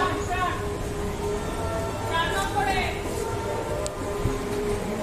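A train stands at a railway station platform on the way to Darjeeling, its steady rumble and hum continuing under a busy crowd of voices, with a brief squeal and a short clank near the end.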